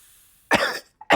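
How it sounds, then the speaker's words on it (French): Characters in a children's audio story cough after a thick cloud of smoke pours through a huge red door, giving two short, harsh coughs close to the listener with a brief catch of breath between them. "ce qui les fait tousser."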